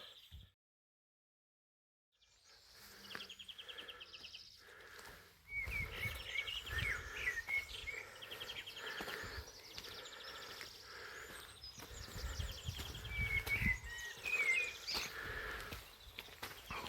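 Several birds sing a morning chorus near the Camino de Santiago around Villafranca Montes de Oca, their varied chirps and trills overlapping at moderate distance, with occasional footsteps and rustling below.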